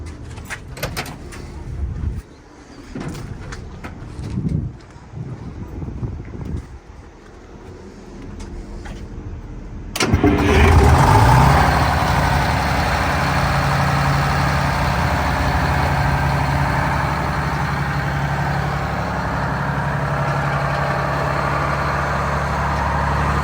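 Quiet clatter and knocks, then an old Ford crew cab truck engine with a muffler abruptly fires up and settles into a steady, moderately loud idle that continues to the end.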